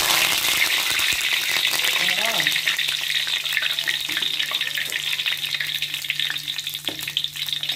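Steady crackling sizzle of curry leaves frying in hot oil, loud and continuous throughout, with a faint low hum underneath and occasional sharper pops.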